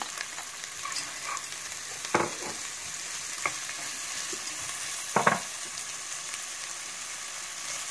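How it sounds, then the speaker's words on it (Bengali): Vegetables stir-fried in a pan with a little butter, light oil, chopped onion, ginger and garlic, giving a steady soft sizzle broken by a few louder scraping stirs near the middle and later. "এরপরে আমরা আমাদের ভেজিটেবলটা দিয়ে দিলাম এর ভিতরে।"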